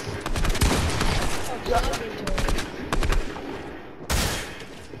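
Rapid automatic gunfire from the Fortnite video game sounds in several short, loud bursts separated by brief pauses, with a final sharp burst near the end, while a player speaks briefly.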